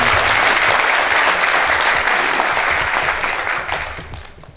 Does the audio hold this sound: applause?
yes